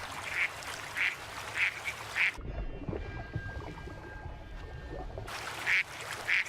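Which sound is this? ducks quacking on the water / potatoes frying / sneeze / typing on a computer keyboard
ducks quacking on the water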